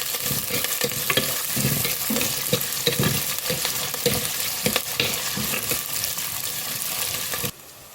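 Onions sizzle and crackle steadily in a hot pan, with occasional stirring scrapes, close and continuous before cutting off at the end.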